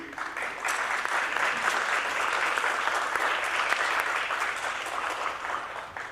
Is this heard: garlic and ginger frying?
no